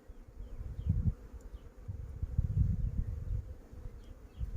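Honeybees buzz in a traditional black log hive, a close, low, continuous hum that swells and dips in uneven bursts, with no voices.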